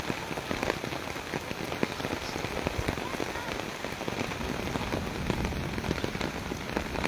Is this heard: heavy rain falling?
yes